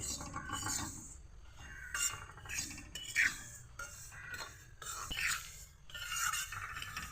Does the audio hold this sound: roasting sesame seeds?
yes